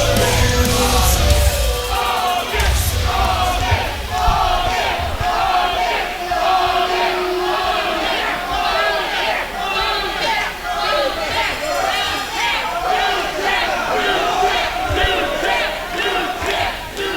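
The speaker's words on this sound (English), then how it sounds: "What a electric crowd here at the OCC Roadhouse." A packed wrestling crowd at the OCC Roadhouse during a Battle for the Belt match roars, cheers and yells steadily throughout, loud and close, with chanting-like pulses rising and falling in the mass of voices.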